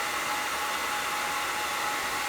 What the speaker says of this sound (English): And then I'll just add the hair dryer to it